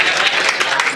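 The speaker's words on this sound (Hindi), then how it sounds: "एक बार तनवीर फिरोजाबादी की रुखसती में जोरदार तालियां बजा दीजिए" Applause rises from the audience at a mushaira poetry gathering in Firozabad, honoring poet Tanveer Firozabadi; a dense, steady burst of clapping fills the whole moment at close range.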